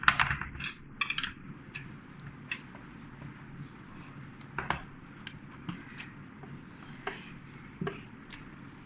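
A knife runs around the edges of a tutti frutti cake tin from a no-oven bake, making sparse, faint metallic scrapes and small ticks close by, with a few sharper clicks at the start.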